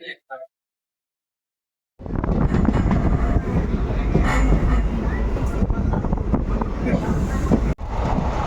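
A train rumbles loudly at a railway station after a brief silence, its steady roar and clatter filling the scene with wind buffeting, ending in a sudden short dropout.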